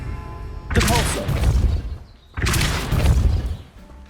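Two heavy magical impact blasts in a fantasy wizard video game, each a loud booming burst with crackling debris lasting over a second, separated by a brief pause.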